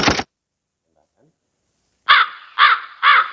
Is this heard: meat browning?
no